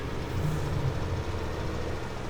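Beet truck engine in Farming Simulator 17 rumbles low and steady at a quiet idle, a dull continuous drone with slight wavering and no voices.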